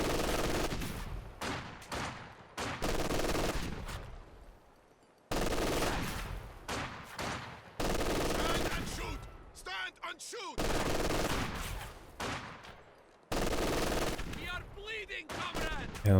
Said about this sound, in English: LMG fighting back.